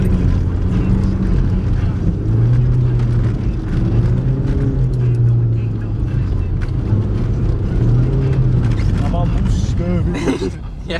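A car engine revving hard as it accelerates on a slippery road, a steady loud drone with shifting pitch throughout, while someone talks over it.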